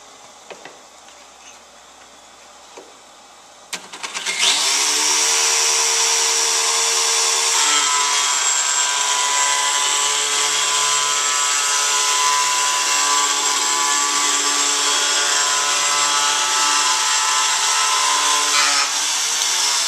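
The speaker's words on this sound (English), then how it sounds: "We've changed the Snowglide over to the side edge position." A Snowglide edge machine in a ski shop grinds a ski's side edge: after a few light knocks it starts up with a sudden jump and keeps up a loud, steady, high whine to the end.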